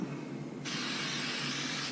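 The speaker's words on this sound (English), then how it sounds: "We're going to spray some kicker." CA glue kicker accelerator sprayed from an aerosol can in a workshop, a single close, steady hiss that starts abruptly and holds for over a second with no talking.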